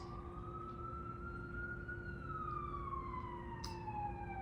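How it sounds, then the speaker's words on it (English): A siren wails steadily, its pitch gliding up and then slowly down, over constant low traffic rumble, with no talking. "the siren is very distracting."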